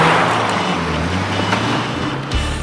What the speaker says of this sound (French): Stéphane remonte dans sa voiture et démarre en trombe.